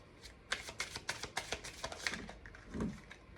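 Tarot cards being shuffled at close range: a quick run of crisp riffling flicks and taps, followed by a softer thump near the end, with no voice over it.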